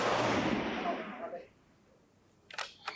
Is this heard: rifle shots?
yes